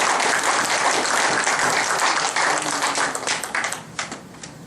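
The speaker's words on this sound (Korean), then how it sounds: "하나님께 영광의 박수" A church congregation applauds together during a Sunday worship service, a loud close burst of clapping that thins out and fades toward the end.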